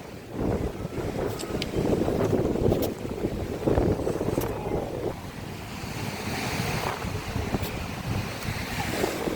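Rough, large sea waves surge and splash around a boat, with strong wind buffeting the microphone throughout.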